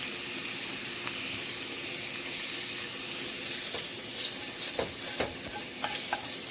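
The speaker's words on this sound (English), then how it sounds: "So we're going to go ahead and brown this." Fatty meat browns and sizzles in a pan on the stove, a steady close hiss of frying broken by a few scrapes and stirring knocks, with no talking.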